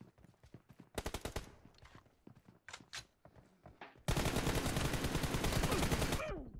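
Gunfire in PUBG: rapid automatic bursts crack out in short strings, then a long sustained volley of loud, close shots that ends abruptly, with no voices over it.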